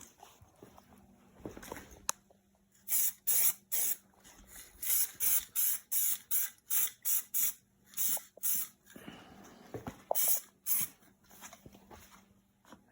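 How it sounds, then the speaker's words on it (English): Spray paint hisses onto the outside of a T86 overdrive transmission case for a 1955 Ford Customline, in a long run of short bursts with brief gaps, close and loud, with no one speaking. "And now we're just going to spray the outside of the case."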